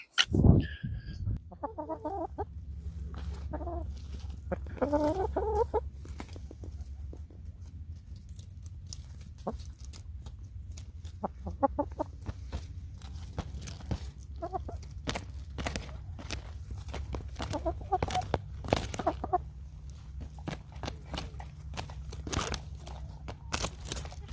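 Backyard chickens cluck and call in scattered bursts at close range, with footsteps and scratching on the ground between calls.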